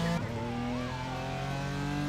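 Race car engine in a Nürburgring racing video game, a loud sustained drone holding a steady high pitch with a brief dip early on, heard alone with no talk.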